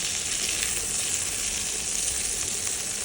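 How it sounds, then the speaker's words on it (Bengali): Hilsa fish pieces frying in mustard oil, a loud, constant close-up sizzle with a steady hissing crackle and no pauses. "এদিকে মাছ ভাজা হয়ে গেছে।"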